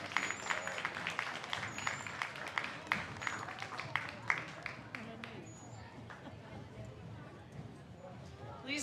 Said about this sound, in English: Please give another round of applause for our 2026 senior boys track members and their parents.